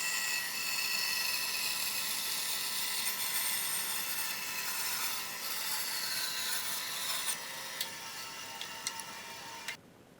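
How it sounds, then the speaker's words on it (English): A bandsaw cuts through a wooden board for a resin river charcuterie board, a steady broadband rasp running for about nine and a half seconds before stopping abruptly, close and alone with no talk. "here using the bandsaw to do that."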